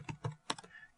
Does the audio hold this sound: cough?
no